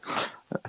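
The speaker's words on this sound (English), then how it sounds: "Cute dog too." A dog gives two quick, close barks right after a brief rushing noise.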